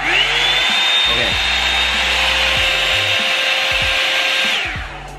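A Revlon One Step hair dryer runs on its low setting, a loud, steady broadband whoosh with a motor whine that holds for about five seconds and then begins to taper off.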